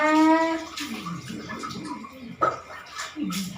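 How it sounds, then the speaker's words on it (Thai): Water splashing and running as a face is washed, close wet sloshes and trickles in uneven bursts with a short gurgle partway through. "อาล้างหน้าก่อนนะคะยายขา จะได้สดชื่นเนาะ"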